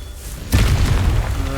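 A Confringo fire spell explodes in Hogwarts Legacy with a sudden loud boom that rumbles on for about a second, close and full, after a short quiet lead-in.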